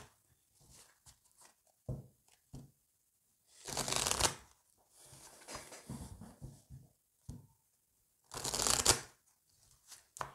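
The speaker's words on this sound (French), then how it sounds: "je vais mélanger une première fois avant de tirer" Oracle cards are shuffled by hand in bursts of crisp riffling and soft slaps, two longer shuffles standing out between quieter taps and pauses, close and clear with no speech.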